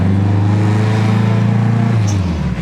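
A circuit car running a freshly fitted motor and fuel upgrades drives close by, a loud steady engine drone with harmonics that shift slightly as it pulls and eases off.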